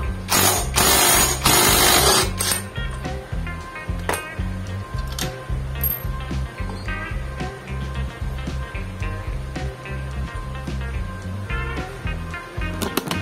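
A ratchet fitted with a 19mm socket works on a Honda Click 125i scooter during a clutch lining change, giving rapid repeated clicking strokes, loud and close, with no talk.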